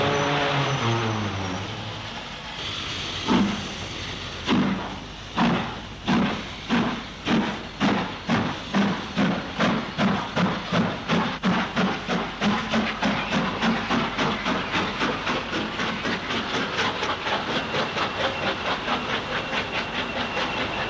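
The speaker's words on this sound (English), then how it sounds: "a passenger train from Leek to Uttoxeter arrives at Alton Towers" A Stanier-designed two-cylinder 2-6-4 steam tank engine hauls a passenger train from Leek to Uttoxeter into Alton Towers station in April 1958, its exhaust beats starting slow and loud, then quickening into a steady rapid chuffing over a constant hiss.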